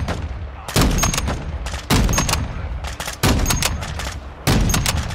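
Gunfire in the Modern Warfare 2 campaign: four loud, heavy bursts of rapid shots, each lasting about a second, spaced roughly evenly with a steady rumble between them and no talking.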